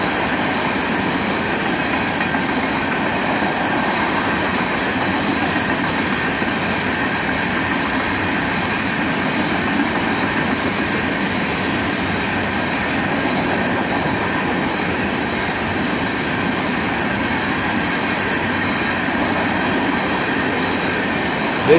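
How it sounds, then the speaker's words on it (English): An empty CSX hopper train led by ES44AH and AC44CW locomotives rolls past at speed, a loud, steady rumble of wheels and clattering cars lasting throughout with no voices. "An empty CSX hopper train, led by an ES44 ACH and an AC44 CW in the old YN2 paint scheme,"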